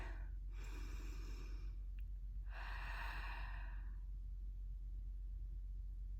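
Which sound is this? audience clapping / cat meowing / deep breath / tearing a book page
deep breath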